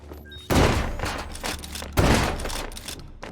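Two loud gunshots ring out in the Hot Dogs, Horseshoes & Hand Grenades video game, about a second and a half apart. Each has a sharp crack that booms and then trails off with a long echo.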